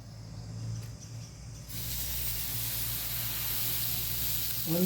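Jackfruit dosa batter, made without coconut, eno or soda, poured onto a hot griddle over a gas flame and sizzling loudly. The hiss jumps up suddenly and holds as a steady, close frying sound.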